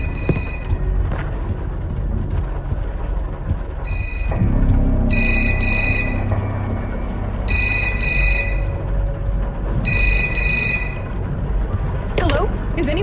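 A phone rings upstairs in a horror video game, sounding in several repeated bursts over a low booming backdrop, with a voice speaking between the rings.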